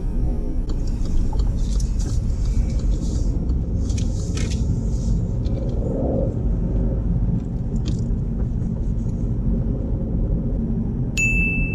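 A car on a road during a driving test, its engine rumble and road noise steady throughout as it slows, with a brief high ding near the end.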